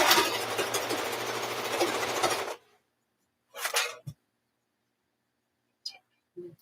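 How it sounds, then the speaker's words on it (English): A serger stitches along a quilted handbag with a steady, loud mechanical whirr for about two and a half seconds, followed by a brief second burst and faint handling clicks. "So this is when I'm happy I have a serger, is when I'm doing something like this."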